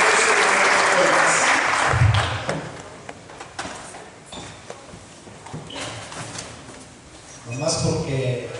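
A church congregation at a youth conference applauds loudly at first, then the clapping thins and fades to scattered claps before a short swell near the end.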